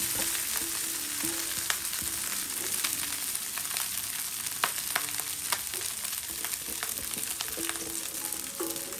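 Rice frying with toasted garlic in a pan, a steady close sizzle with scattered clicks and scraping stirs throughout, no voices.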